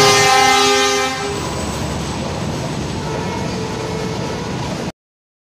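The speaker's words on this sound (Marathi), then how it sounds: "मालगाडी नागपूरला चालली वाटते" A goods train bound for Nagpur sounds a long, loud horn blast, then rolls past with a steady rumbling roar of wagons on the rails until the sound cuts off abruptly.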